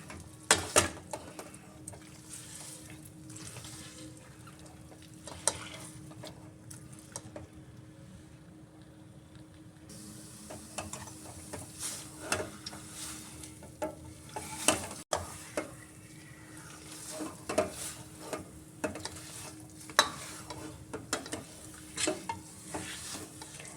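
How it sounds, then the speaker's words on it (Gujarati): Dates are stirred and roasted in ghee in a pan over a low flame, with a continuous soft sizzle broken by repeated scraping and clacking stirs, close up and with no talking. "આપણો ખજૂર હવે ઘીમાં સરસ રીતે શેકાઈ ગયો છે"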